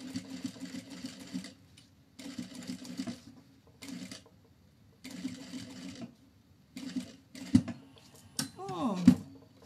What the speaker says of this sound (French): on vient faire une surpiqûre comme ça ici, au bord, bien parallèle à 5 mm